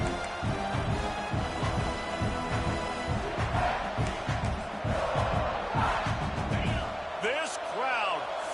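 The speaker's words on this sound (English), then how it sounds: "This crowd, full throat, splitting the eardrums and letting them know it's going to be a long day." A packed stadium crowd roars at a South Carolina versus LSU college football game, a loud, sustained wall of cheering and shouting that swells throughout, with a commentator talking over it.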